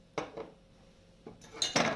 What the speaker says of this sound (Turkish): Böyle biraz harmanlıyoruz.